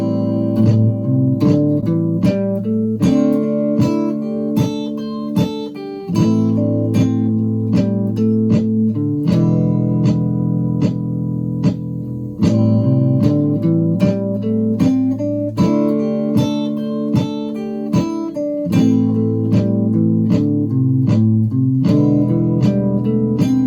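A clean electric guitar plays a melodic lead over a repeating chord pattern from a looping pedal, steady and close, with the loop cycling every few seconds and no voices.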